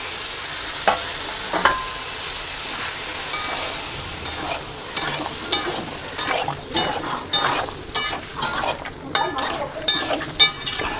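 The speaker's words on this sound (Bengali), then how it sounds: "এবার আমি দিয়ে দেব কেটে রাখা লাউ।" Chopped bottle gourd is tipped into sizzling spice paste and stirred, with crackling frying, scraping and metal clinks growing busier and closer toward the end.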